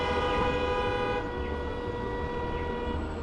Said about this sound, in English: And then everyone honking certainly helps.